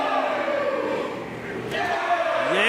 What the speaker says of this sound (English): Yays and boos both ways.